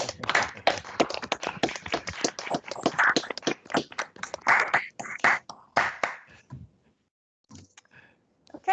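An audience applauds at the close of a Gi4DM conference, producing dense, rapid clapping for about six seconds before it fades out, followed by a near-silent pause and a few faint scattered sounds.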